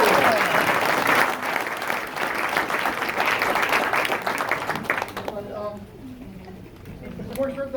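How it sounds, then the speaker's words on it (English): An audience at an SR20 2019 convention bursts into loud, dense applause that carries on for several seconds, then thins to scattered claps as a voice starts speaking. "Everybody clap for Joe."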